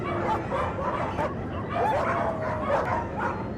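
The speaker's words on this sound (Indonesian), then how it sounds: "semua anjing peliharaan yang berada di dalam kargo pun tiba-tiba menggonggong tanpa henti" Pet dogs caged in an aircraft cargo hold bark, yip and whimper continuously, several dogs overlapping at close, steady loudness.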